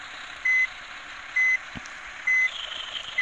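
Reversing alarm on a Fuso FN truck pulling a container trailer in Bus Simulator Indonesia, four evenly spaced beeps sounding over a steady engine drone.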